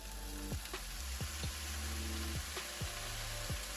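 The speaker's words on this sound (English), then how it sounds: "we are going to season our fried rice with some soy sauce" Fried rice sizzling steadily in a hot pan as soy sauce goes in, a continuous frying hiss with a few sharp clinks and scrapes of a utensil scattered through it, fairly close and with no talk.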